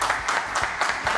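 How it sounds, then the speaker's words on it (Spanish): A studio audience applauds to welcome a guest, Alicia Barco, on a TV program, with dense, steady clapping filling the short clip at an even, fairly loud level. "Vamos a darle un aplauso a Alicia."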